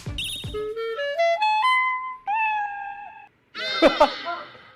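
A person's voice imitates a cat, producing a series of stepped, drawn-out meowing tones, then ends in a noisy burst of voices.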